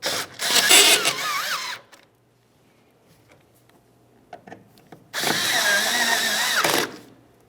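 A power drill drives the two mounting screws of a reverse light on a 2005-2010 Dodge Dakota, in two close, loud whirring bursts, each about two seconds long, separated by quiet handling clicks.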